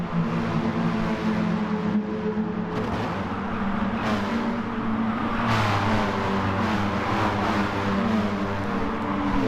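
Race cars roar through fast chicanes in Gran Turismo Sport during an FIA Nations Cup exhibition race, a steady loud engine drone with shifting pitch as the pack accelerates and brakes.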